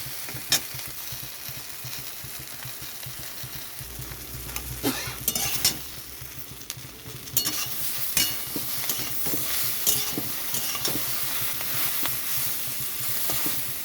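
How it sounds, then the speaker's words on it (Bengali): Boiled taro stolons (kochur loti) frying in a pan over low gas, a steady soft sizzle with intermittent scraping strokes of a spatula stirring through, no voices. "তার গ্যাসটা কমিয়ে কমিয়ে ভাজতে হবে"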